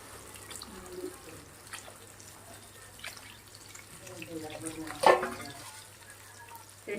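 Water pours into a pot of rice in a quiet, trickling stream, rising to a brief splashy gush near the end, with faint talking in the background.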